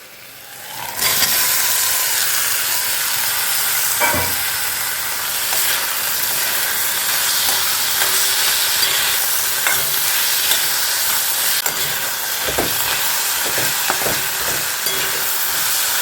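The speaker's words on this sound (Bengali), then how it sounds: "সব মশলাপাতি দিয়ে দিয়েছি, যা যা রেগুলার স্পাইসেস আছে সব দিয়ে একটু কষছি" Potatoes and peas, with mashed old tomato and regular spices, fry and are stirred in a hot pan, giving a steady sizzle and hiss with occasional scraping clinks, close and fairly loud throughout.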